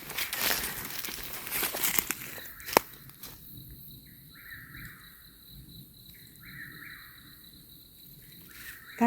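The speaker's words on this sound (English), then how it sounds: "That bird is so loud." A bird calls at night outdoors, making a repeated piercing call in regular bursts over quiet background after some early rustling and a sharp crack.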